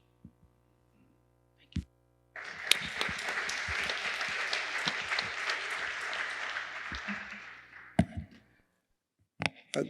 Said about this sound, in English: Let's give another round of applause for Bruce and Florin.